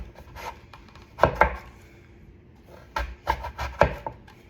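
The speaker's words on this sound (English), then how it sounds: "I'm gonna flip that over and then keep cutting" A knife chops sweet potatoes on a cutting board in two close, sharp bursts of a few knocks each, separated by a quiet pause.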